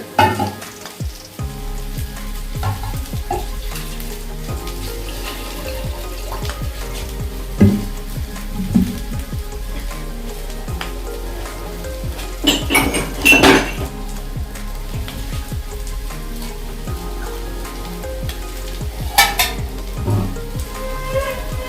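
Milk goes into a pan of Navratan pulao as it sizzles, with a steady frying hiss, scraping and clinking of utensils against the pan throughout, and no talking.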